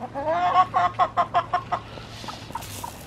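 Chickens cluck in a rapid rhythmic series of short calls up close, fading into softer scattered clucks over a low steady hum.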